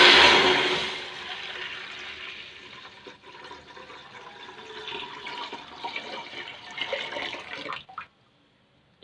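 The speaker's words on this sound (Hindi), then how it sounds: "सबसे पहले हम इसमें पानी डालेंगे।" Water pours steadily from a jug into a cooking pot for rice kheer, a loud splashing rush that gradually softens and then stops abruptly near the end.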